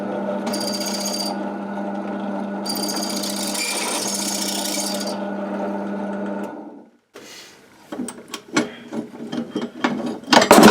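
A drill press whines and grinds steadily through metal, then winds down and gives way to clattering, scraping knocks and clanks of metal.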